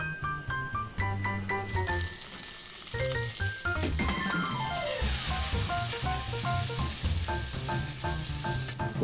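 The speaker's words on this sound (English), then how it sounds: "Now we're gonna add beans." String beans hiss and sizzle steadily in hot chili oil in a wok, loud and close, with faint clinks and stirring mixed in under background music.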